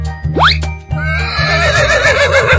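A horse neighs in a cartoon animal game, one loud shrill whinny rising over a rhythmic backing tune, followed by a bright musical flourish.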